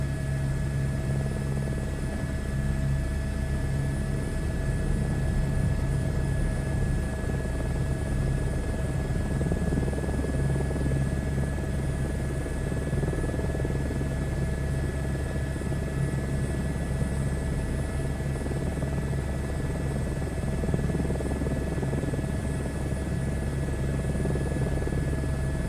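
A simulated Airbus H125 helicopter in flight gives off a constant whirring rotor drone with a steady engine hum and high whine, unbroken and alone, with no talking.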